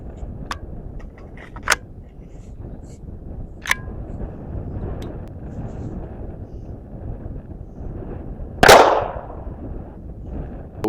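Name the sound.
22 LR pistol shot at motorcycle helmet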